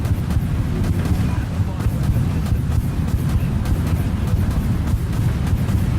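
Heavy cannon fire from a dreadnought warship in the Dreadnought video game, a dense, loud barrage of low booming shots arriving in rapid succession over a continuous rumbling roar, with no voices.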